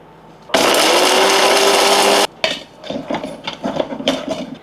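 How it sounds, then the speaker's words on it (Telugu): A kitchen mixer grinder whirs loudly for under two seconds, grinding roasted spices with tamarind powder for drumstick-leaf spice powder, then stops, followed by clinks and knocks of the jar and lid. "మిక్సీ ఆన్ చేశాను"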